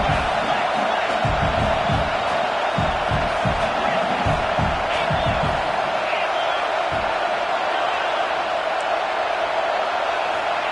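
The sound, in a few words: home crowd cheering in College Football 26 video game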